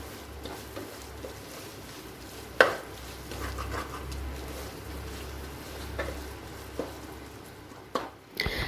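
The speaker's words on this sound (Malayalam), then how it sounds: "അപ്പോൾ ഈ മസാല നല്ലപോലെ ഇളക്കി കൊടുത്തുകൊണ്ടിരിക്കണം" Spiced masala for egg biryani sautéing and being stirred in a pressure cooker: a soft steady sizzle and low hum, broken by intermittent spoon scrapes and a sharp metallic clank near the start.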